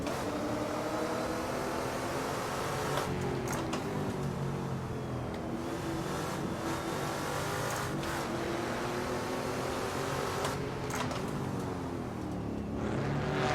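BMW M235i race car drifting on a track, heard from inside as a loud, steady engine drone whose pitch rises and falls with throttle and gear changes.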